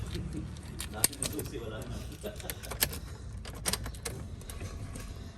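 Car keys for a Honda Civic EK jangle and clink close by in quick, irregular metallic bursts, with a faint voice in the background.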